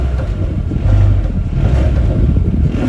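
A 2020 Mercedes GLA 250 engine hums low and rumbly at low RPM, a steady, close, deep drone with a sporty throaty edge that swells slightly partway through.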